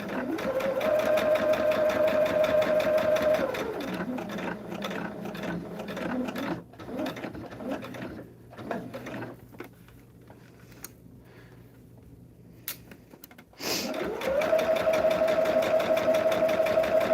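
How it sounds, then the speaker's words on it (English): A sewing machine stitching a quilt runs in a steady, fast mechanical whir, stops for a stretch of quieter handling and clicks, then starts up again at full speed near the end, close and clear. "We're just sewing down that line"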